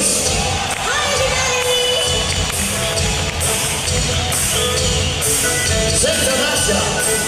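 Arena concert audience at a live show cheering and applauding, a dense continuous roar of crowd noise with shouts and whoops, loud and steady.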